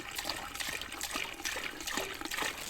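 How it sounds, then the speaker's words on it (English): Tap water runs into a cooking pot at a winter roof-tent campsite in Norfolk, a continuous splashing, gurgling pour that stays fairly steady and close. "we're going to fill this about halfway with water."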